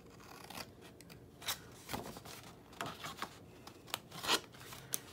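Scissors snip through a paper envelope up to the score line in a series of short, quiet cuts and rustles, close by, irregularly spaced with brief pauses between them.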